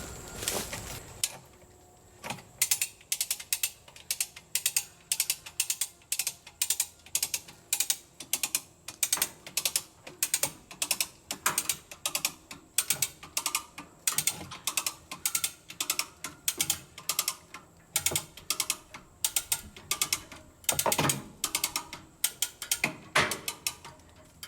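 Ratchet wrench clicking in rapid bursts while loosening the track tensioner on a Caterpillar 941 crawler loader, with dense repeated pawl clicks, close and fairly loud, pausing briefly between strokes and no talk.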